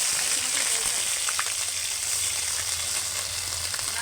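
Onion paste sizzles and fries steadily in a hot pan for a Bengali rohu fish curry with poppy seed paste, a dense, even crackle that holds throughout with no talk over it.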